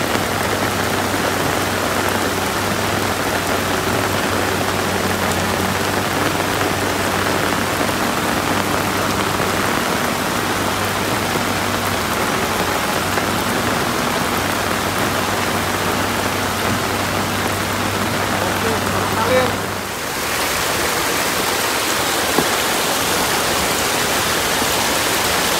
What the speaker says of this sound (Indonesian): Airnya bosku semakin deras, apa enggak habis nanti ini terkikis ya.